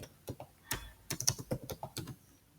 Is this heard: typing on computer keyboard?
yes